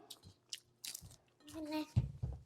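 Crunchy Pontianak-style bakwan vegetable fritter with corn being bitten and chewed up close, several crisp crackling bites with short pauses, and a voice briefly mixed in.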